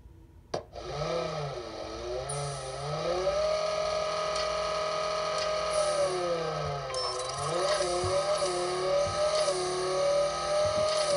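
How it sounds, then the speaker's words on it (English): A Ford GT in a Racing Rivals drag race, the engine note sweeping up through the revs and dropping at each gear shift, with a sharp click at the start and several more changes following in steady succession. "I heard a double click shifting into fifth gear"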